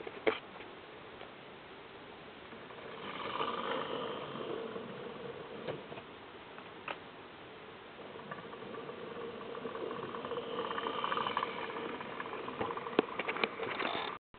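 A Hornby Toby the tram engine model train runs along its track, giving a steady rattling, ticking patter of small wheels and motor with gentle rises in loudness, no voices.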